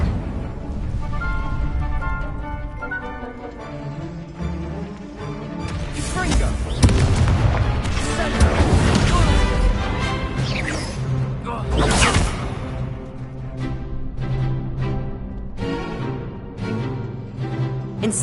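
Fire spells cast repeatedly in Hogwarts Legacy on PS5, loud crackling bursts and booming blasts rising and falling over dense game music and effects, with a voice calling out spell names throughout.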